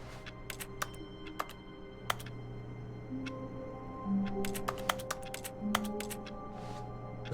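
Keyboard typing clicks in The Stanley Parable, sharp separate key taps in irregular bursts, close and crisp over a quiet office hum, with brief low murmurs between.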